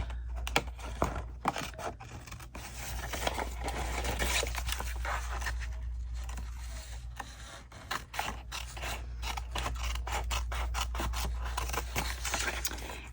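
Scissors snipping through paper while making slide-style vintage ephemera by hand, a steady run of close, crisp cutting and rustling sounds over a low constant hum, with no talking.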